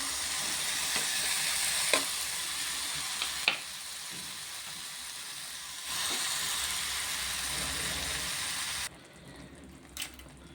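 Potatoes and tomatoes sauté in a pan for a poori side dish, giving a steady close sizzle and hiss throughout with a few stirring clinks. The frying noise drops off near the end.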